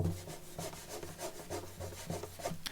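Hands rubbing and brushing the satin-finish wooden body of a Yamaha Atmosfeel acoustic guitar, giving close, scratchy friction noise in repeated strokes alongside low, thumping body resonance.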